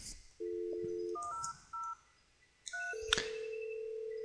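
A Cisco IP phone dials extension 1003: a run of clear, steady DTMF tone bursts, some long and some short, with brief gaps between them. No one speaks.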